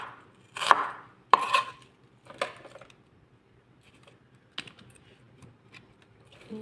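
A knife cuts vegetables on a board in a few sharp, separate chops, two loud strokes close together and then softer, scattered cuts trailing off into near quiet, with no talking.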